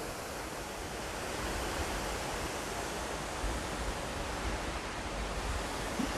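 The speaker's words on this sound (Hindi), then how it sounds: "वो देखें एक उधर से भी पानी नीचे गिर रहा है।" Steady, dense rush of falling water, continuous and even throughout, like a small waterfall nearby, with no voices, in a village in Sacile, Italy.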